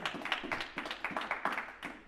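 Congregation clapping at a church service, quick rhythmic handclaps repeating at a steady pace for a couple of seconds, fairly close and fairly loud.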